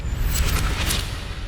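Reversed giant vault door sound effect drenched in reverb, a thick booming rumble with washy metallic swells that lingers and slowly tails off, loud and alone without speech.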